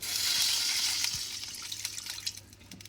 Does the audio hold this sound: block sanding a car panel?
no